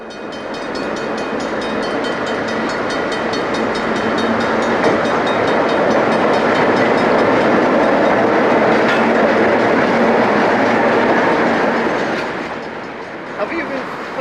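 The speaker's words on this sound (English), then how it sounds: "Have you been filming railway engines again?" A railway train passes on an open Australian line, its loud rumble and rhythmic clickety-clack of wheels building and holding for several seconds before fading off near the end.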